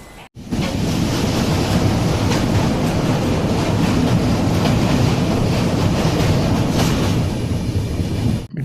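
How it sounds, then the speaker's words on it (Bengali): Saraighat Express train pulling into Malda Town station, a loud steady rumble of wheels and carriages with rhythmic clatter that holds for the whole stretch after a brief quiet start. "নির্ধারিত সময় থেকে 10 মিনিট আগে ট্রেন এসে পৌঁছালো মালদা টাউনে।"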